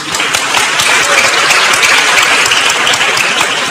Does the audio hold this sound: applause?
yes